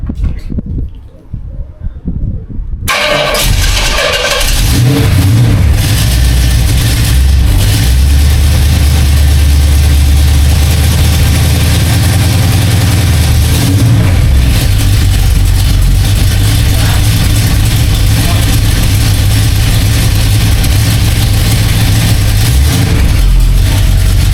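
A Pontiac car engine, in need of work, starting up after a few quiet seconds, then a loud, close, continuous rumbling idle with rises in pitch as it revs.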